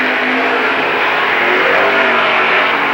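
Race cars roar around a track in a loud, continuous, dense wall of engine noise, the pitch shifting slightly as the cars jostle for position close by.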